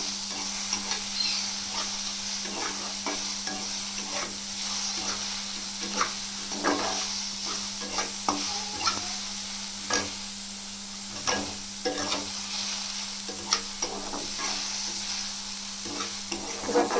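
Vegetables lightly frying in a pan, a steady sizzle punctuated by regular spatula scrapes and taps against the pan, with a low hum running underneath.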